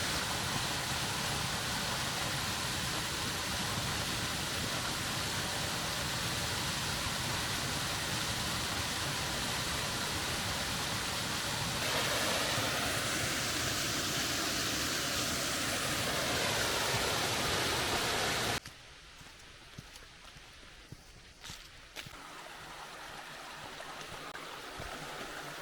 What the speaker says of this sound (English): this waterfall. I think it might be man-made.